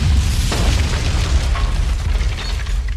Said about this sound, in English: the subsequent massive explosion that obliterated half the dining room and sent flaming bits of tea table flying off at supersonic speeds